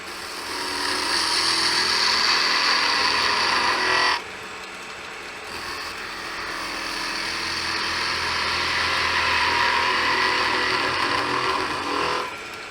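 Wood lathe spinning a Christmas tree box blank while a peeling cut is taken, a steady high whirring hiss with a brief drop around the middle, then resuming and tapering off, close and loud without talk.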